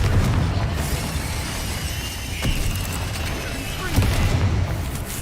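Confringo explosive spell in Hogwarts Legacy: heavy booming blasts, with one thump near the middle and a stronger burst later, over dense, noisy game action and a voice.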